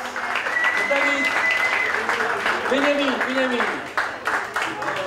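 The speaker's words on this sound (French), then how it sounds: "On peut les applaudir très fort, s'il vous plaît" Loud applause from an audience for a group of performers, sustained clapping running under a voice as he speaks and calls out a name over the noise.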